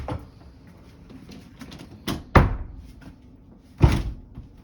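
A humidity-swollen fire door in a master bedroom is slammed shut twice, each a loud close boom with rattling, after softer scraping and handle clatter as it's forced toward the frame.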